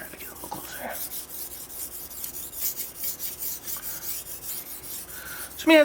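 A steel knife is drawn repeatedly across a Tanba Aoto Japanese natural whetstone, giving a coarse, gritty scraping in rhythmic back-and-forth strokes, close and moderately loud, with no voice over it.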